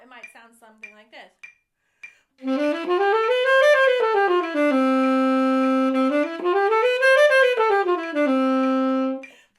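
Saxophone playing a jazz etude smoothly with no articulation, legato lines rising and falling in long sustained notes after a few short, quiet opening sounds.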